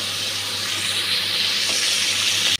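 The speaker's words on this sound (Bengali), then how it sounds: "তেল গরম হয়ে গেছে, মাছগুলো ভাজতে দিয়ে দিচ্ছি।" Fish frying in hot oil, a steady dense sizzle and hiss that holds unbroken and fairly loud for the whole stretch before cutting off abruptly at the end.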